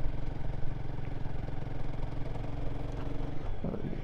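A Royal Enfield Guerrilla 450 motorcycle engine labours uphill in third gear, a steady close mid-pitched thrum with mechanical clatter, throttle and load shifting slightly near the end, no talking.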